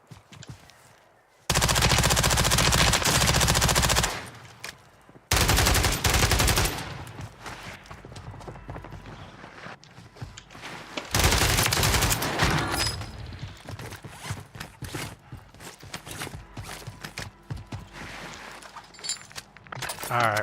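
Loud bursts of rapid automatic gunfire ring out as a player is shot in an online shooter game. The long sustained volleys are separated by short pauses, with faint talk and clinking in between.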